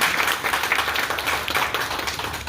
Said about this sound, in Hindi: उनको तालियों से बधाई देना चाहिए